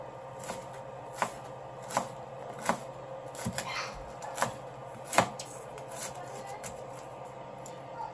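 Knife chopping fried pork into small pieces for sisig, a run of sharp, separate cuts at an uneven pace on a board, with steady kitchen background noise and no talking.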